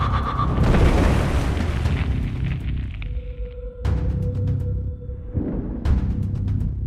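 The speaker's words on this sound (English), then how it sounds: "And then corpse explosion." Corpse explosion in the video game Stirring Abyss: heavy, rumbling blasts with a sharp burst near the start and another crack mid-way, over dense continuous game noise and a sustained tone, loud throughout.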